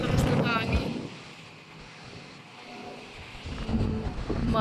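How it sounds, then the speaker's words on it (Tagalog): Strong wind blasting during a sandstorm in Dubai, roaring in gusts against the microphone and rising near the end, with a person speaking at the start and close. "Ay, grabe ang lakas ng hangin."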